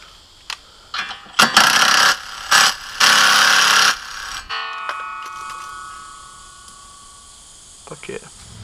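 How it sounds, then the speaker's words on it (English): A low-torque impact wrench seats parts in loud, short hammering bursts of one to two seconds each, separated by brief pauses, then quiet mechanical ringing and faint clicks follow. "it's not a rattle gun, it's just an impact that I use for work with pretty low torque"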